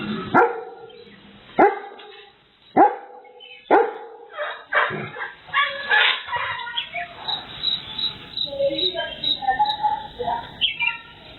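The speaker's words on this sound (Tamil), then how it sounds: "காட்டு யானையை வளர்ப்பு நாய் ஒன்று குரைத்து அச்சுறுத்தி விரட்டியுள்ளது" A pet dog barks loudly in sharp repeated bursts at a wild elephant near a house on a tea estate village at dawn, the barks coming close and forceful before giving way to busier, softer yapping and background noise.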